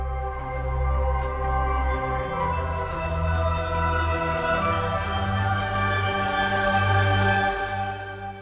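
The UltraSphere synth's default preset swells into a rich, sustained pad, low bass drones under a bright, shimmering layer that thickens after a couple of seconds and holds steadily to the end, with no talking.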